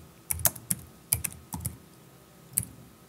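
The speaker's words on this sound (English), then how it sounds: "you can simply type in right here" Keys tapped on a computer keyboard while entering questions and answers, a short irregular run of crisp clicks with pauses between them, close and fairly quiet.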